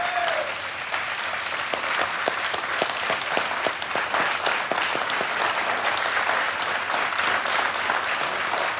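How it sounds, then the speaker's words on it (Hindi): A studio audience on a televised quiz show claps continuously for a winning contestant, a loud, sustained wash of applause from start to finish. "तालियां बजती रहें इनके लिए"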